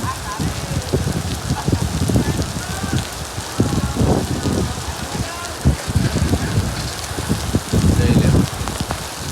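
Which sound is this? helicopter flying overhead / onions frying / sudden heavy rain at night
sudden heavy rain at night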